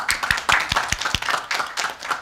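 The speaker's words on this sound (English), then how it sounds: "we should give her a round of applause" Scattered audience clapping at a Nishnawbe Aski Nation chiefs assembly, a handful of distinct hand claps with a few quieter claps in between, short and close, with no talk over it.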